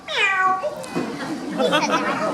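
A voice imitates a cat, giving a drawn-out, wavering meow followed by a second shorter mewing cry, close and clear.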